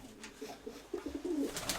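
Pigeons coo softly in a dovecote, several low murmuring coos repeating through the clip with rustling in the background, no talking.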